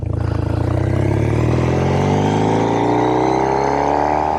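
A 2007 Triumph Thruxton 900 motorcycle engine roars loudly and steadily up close, its pitch climbing smoothly as it accelerates.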